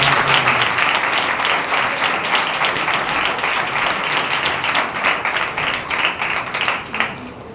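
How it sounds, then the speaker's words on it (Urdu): Loud congregation applause fills a church Sunday service, dense steady clapping that holds strong throughout before thinning slightly near the end, with a few faint voices in the crowd. "آئے زوردار تالیاں بجا کے."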